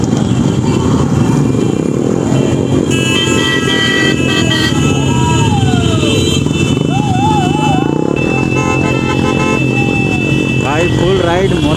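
A Bullet motorcycle with a modified, cracking silencer rides through a busy Independence Day street procession, its loud thumping exhaust steady under honking horns and traffic, with people shouting nearby.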